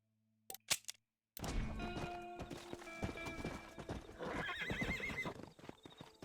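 A horse in Red Dead Redemption, a couple of brief knocks then a loud burst of galloping hoofbeats with neighing and whinnying up close, layered over game sounds.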